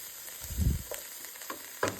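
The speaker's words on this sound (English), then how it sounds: "Saute that down for about 7 minutes until it gets however you like it." Vegetables sizzle softly in a hot pan while being sautéed, with a few close stirring scrapes and clacks over a low, steady frying hiss.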